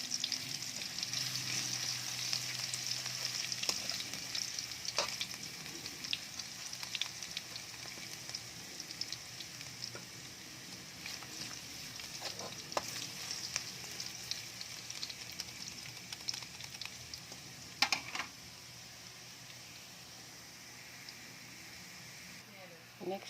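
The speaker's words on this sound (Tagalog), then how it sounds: "Lagyan na natin yung ating bawang. Medyo papulahin natin yan" Garlic sizzles in a pan as ginataang labong is started, a soft continuous frying hiss with occasional stirring scrapes, while someone talks over it.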